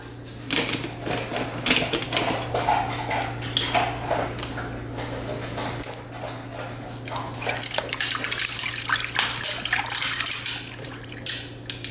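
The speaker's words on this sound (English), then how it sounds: "I'm going to fill them up with water." Ice cubes clink and rattle in insulated 20 oz tumblers as water is poured over them, with irregular sharp clatters and splashy pouring heard up close over a steady background hum.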